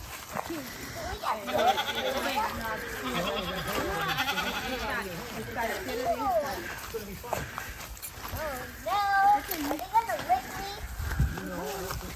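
Children chatter and shout on a farm while goats bleat now and then in the background, voices overlapping busily throughout.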